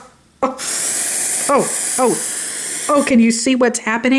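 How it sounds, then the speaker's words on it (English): An aerosol can of Batiste dry shampoo sprays into hair in a long steady hiss, close and loud, while someone talks over it. "I'm spraying this in my hair."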